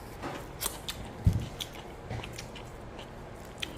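Someone eats rice mixed with oiji, Korean pickled cucumbers, making soft, close chewing with a few crisp crunchy bites over quiet background noise.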